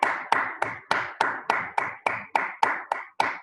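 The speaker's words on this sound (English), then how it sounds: "Please clap for yourselves." Children clap for themselves at the end of a first-grade science lesson: about a dozen sharp claps in a steady, even rhythm, close and fairly loud, with no talking.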